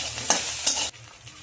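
Noodles frying in a pan with egg and spices: loud continuous sizzling with two sharp stirring scrapes, then the sizzle abruptly quiets to a low simmer.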